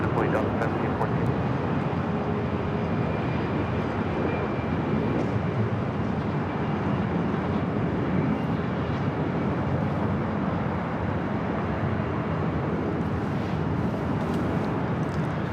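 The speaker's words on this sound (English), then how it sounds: "Heading over to 24 left is Delta Airlines Flight 1714 heading to Seattle, 737-800" A Delta Boeing 737-800 airliner taxis at LAX toward runway 24 left, a steady broad jet roar holding at an even level throughout, with faint voices in the background.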